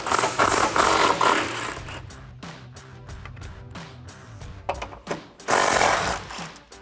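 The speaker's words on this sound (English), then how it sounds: "grab your impact gun and your socket and get those 3 off." An impact gun with a 13mm socket hammers off strut tower nuts on a 2008-2023 Dodge Challenger during a lowering spring install: loud, close rattling bursts at the start and end, with ratchety clicks and clunks between them.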